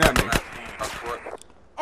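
Gunfire in GTA San Andreas: a rapid burst of three sharp shots, then a short lull with a voice, and another shot at the end.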